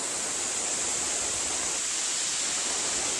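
Anjani waterfall near Saputara, Gujarat, roars steadily during a downpour, a dense broadband rush of falling water with no pauses, close and loud, no voices.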